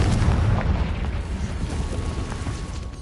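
A Confringo fire spell explosion in the video game Hogwarts Legacy, a loud, deep rumbling blast that decays slowly over a few seconds, with a heavy low-end roar.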